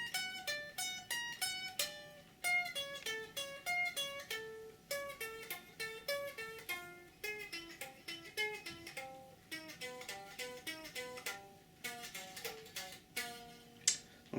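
A guitar plays a fast descending seven-note arpeggio pattern with every note picked, a rapid run of clean, distinct notes cascading downward in repeating cycles, played alone at moderate volume.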